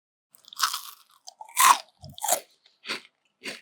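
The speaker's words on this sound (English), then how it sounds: "That is the perfect bite, the perfect chew on a chocolate chip cookie." Close-up bites and chews of an oatmeal chocolate chunk cookie give sharp, dry crunches, a couple of loud bites followed by softer, evenly spaced chewing crunches with silence between.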